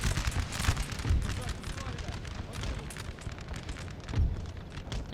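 Cannon fire in the Napoleonic battle game Napoleon Total War: dense, rumbling booms roll on continuously, with heavier blasts near the start and toward the end, while a voice talks over the din.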